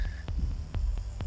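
Repeated damage sound effect from the video game Axiom Verge: a low throbbing, pulsing hum with sharp periodic ticks, loud and mixed above everything else, repeating steadily through the moment.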